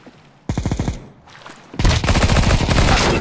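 Negev machine gun in a video game firing in long rapid bursts, loud and close, with a short burst followed by a sustained stream of rounds.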